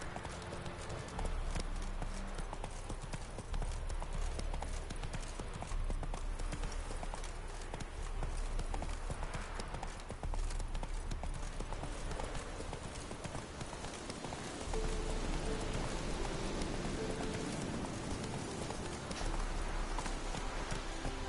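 Hoofbeats of the horse Roach galloping in The Witcher 3, a continuous rapid clip-clop rhythm held steady and close for the whole stretch, with faint game ambience beneath.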